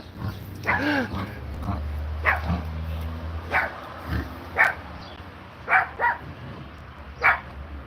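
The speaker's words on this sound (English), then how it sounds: "I don't know whose dog this is" Dog barking, probably the next-door neighbour's, several short barks at irregular intervals over a low steady hum, fairly near.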